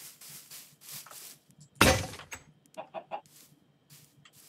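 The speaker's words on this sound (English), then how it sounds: "Oh my god, look at all these chickens." Several chickens cluck in short, scattered bursts nearby, with a sudden loud crackling crash partway through and no talking.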